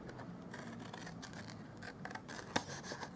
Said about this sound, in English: On the top here, we're going to cut this one off.